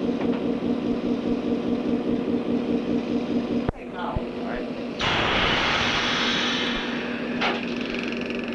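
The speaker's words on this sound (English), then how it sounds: "You have just heard the air brake being released." A CPR locomotive's air brake releases in the cab on the run to Rossland: the idling engine hum is cut by a sharp knock, then a loud rushing hiss of escaping air lasts a few seconds before fading.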